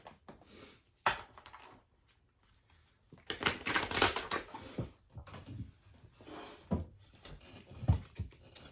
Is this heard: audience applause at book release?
no